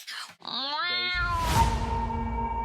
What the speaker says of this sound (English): Kitty really growled for you.